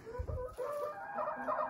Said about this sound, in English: Look at that old rooster.